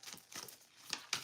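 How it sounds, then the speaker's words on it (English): A new tarot card deck is shuffled in soft, quiet bursts of papery riffling and crinkling, with a few brief pauses between them. "I know I'm shuffling these a lot, you guys, but it is a new deck"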